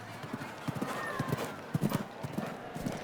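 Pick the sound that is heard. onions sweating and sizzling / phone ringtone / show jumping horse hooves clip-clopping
show jumping horse hooves clip-clopping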